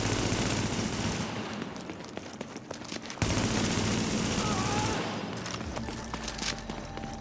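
Sustained automatic gunfire in the shooter game The Division, with rapid bursts from several weapons and a brief pause before heavy firing resumes.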